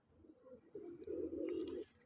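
Pigeons cooing near a loft, soft low throaty coos that build into a longer rolling call, fairly faint with light chirps in the background.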